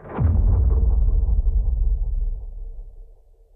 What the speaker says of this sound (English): I think what I would like to do and what I've done in this track is layer in like some sub booms.